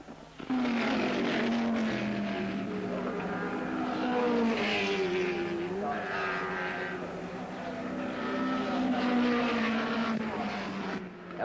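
Racing cars from a 1970 BRSCC event, among them the John Wyer Porsche driven by Rodriguez, scream past with loud, sustained engine howls that rise and fall in pitch as they pass.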